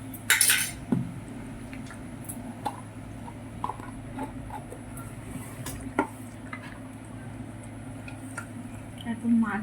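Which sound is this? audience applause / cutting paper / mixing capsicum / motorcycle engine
mixing capsicum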